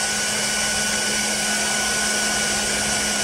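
Hair dryer running on a Storcube S2500 portable power station, a steady loud broadband whoosh with a constant motor whine, unbroken for several seconds with no talk.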